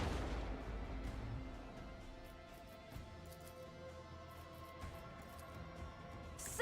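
A detonation explodes in Rogue Trader with a heavy low boom at the start that rolls off into a decaying rumble, followed by a few smaller thuds and pops under a faint musical bed.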